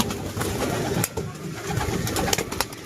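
A pigeon returning to its loft gives soft, close coos in a few low throaty bursts, with faint rustling and light knocks around it and no talking.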